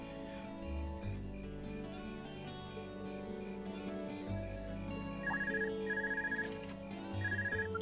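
A phone rings in the video game Trails of Cold Steel, a short repeating electronic tone in bursts over the game's steady background music, with no talk.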